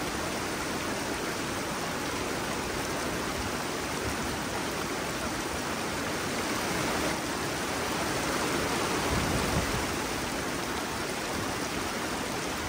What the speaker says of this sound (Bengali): ঝিরির পাশে বসে কিছুক্ষণ পানির শব্দ শুনি।